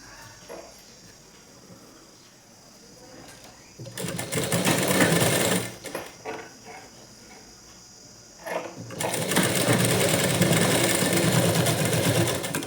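A sewing machine stitching a sleeve runs in two loud, steady bursts, the first of about two seconds and the second longer, with a quiet pause and faint handling sounds before and between them.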